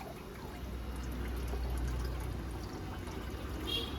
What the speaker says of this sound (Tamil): இப்போ பாருங்கள், நான் இதில் ஊற்றுறேன்